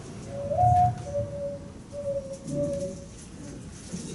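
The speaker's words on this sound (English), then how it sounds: "Now this is a native dove, the mourning dove, M-O-U-R-N, because it sounds like it's in mourning." A native mourning dove coos a soft, mournful series of low hooting notes, first a rising call and then several drawn-out tones. The calls are close and clear over faint background noise.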